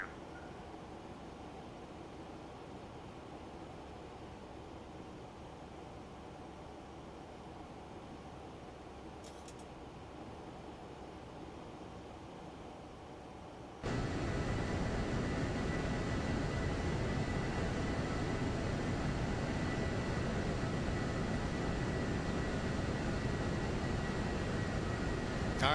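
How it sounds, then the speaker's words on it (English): Boeing 737-700 airliner engines in the X-Plane 12 flight simulator, a steady broadband cruise roar that jumps abruptly louder partway through and holds, with no talking. "you all wanted to hear the plane? Now you get to hear it."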